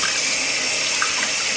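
Running water from a tap splashes steadily while six-week-old Aussiedoodle puppies are bathed, a close, continuous broadband rush with no pauses.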